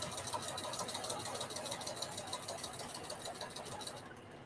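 A home sewing machine stitching backward on a patchwork bandana T-shirt dress, running in a fast, steady mechanical whir with rapid needle clatter that holds close and even before stopping near the end.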